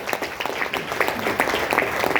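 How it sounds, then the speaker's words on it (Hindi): An audience breaks into brief, scattered clapping after a moral story is told, the claps fairly close and moderately loud, with distinct hand strikes audible over a short stretch. "एक सर एक जोरदार तालियां हो जाए।"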